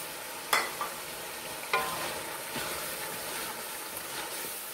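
Yogurt stirred into a frying green chickpea mixture for tahari, a low sizzle with a few scattered spoon knocks and scrapes, close and fairly quiet.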